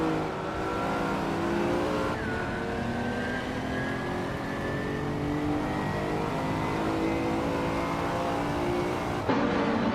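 Several race cars roar together at the start of a racing-game race, with engines holding a continuous loud drone, pitch rising between upshifts and a brief tire squeal.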